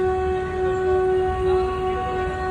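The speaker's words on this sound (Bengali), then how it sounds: "হরন দিয়ে আসছে ট্রেন।" A train horn sounds as the train approaches through a jammed city area, one steady, loud, sustained tonal blast that holds for the whole moment with no voices over it.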